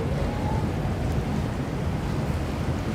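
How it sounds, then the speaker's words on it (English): Waves wash steadily along the downtown Manhattan waterfront at sunset, a constant rushing swash mixed with wind noise on the microphone, with no talking. "I can hear all the waves sound right here"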